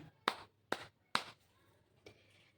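Three sharp, close hand claps in quick succession at roughly even spacing, followed by a fainter fourth tap, in a quiet room.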